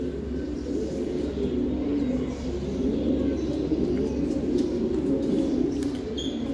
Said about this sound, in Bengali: এই যে এক জোড়া খাকি কবুতর, এটা হলো সিলভার খাকি আর দুধ খাকি দিয়ে করা।